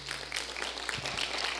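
Applause from a congregation in a cathedral for two candidates, a fairly soft, diffuse patter of clapping lasting the whole moment, with a low steady hum underneath.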